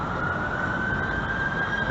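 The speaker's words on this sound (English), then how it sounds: "Is that a siren here?" A distant siren carries as a faint, steady tone above constant low outdoor background noise somewhere in Canada.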